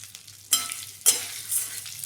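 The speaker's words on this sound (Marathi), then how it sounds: "आणि छान असे मीडियम गॅसवर भाजून घ्यायचे." Spices roasting in a little oil over a medium gas flame, with soft sizzling and two or three sharp stirring scrapes against the pan, close and fairly quiet.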